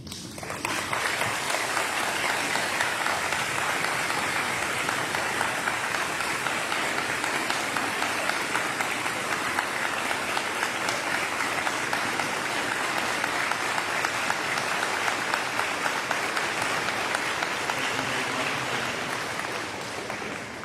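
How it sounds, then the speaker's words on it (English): An audience at a Veterans Day ceremony applauds veterans with steady, dense clapping that fills the room, sustained and even for about twenty seconds before easing slightly at the end. "give you a huge round of applause"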